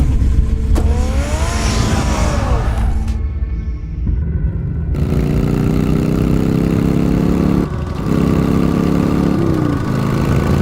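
Batman's car in the Batman Telltale game, its engine rumbling loud and close and revving up, with an abrupt cut partway through before the heavy drone resumes.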